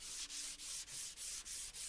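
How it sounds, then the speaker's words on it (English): Rhythmic sanding strokes with 180 grit sandpaper on an old pine mirror frame, a steady back-and-forth scratching repeated about seven times, close and alone. "I'm giving everything a sanding down again with a 180 grit paper"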